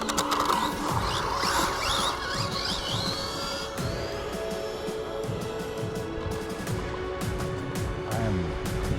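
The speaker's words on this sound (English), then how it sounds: "I am scraping something." A Carisma M48S Audi Sport Quattro RC car runs with a dense, busy mechanical rattle and scraping chatter, steady and close throughout with sharp clicky transients, no voices.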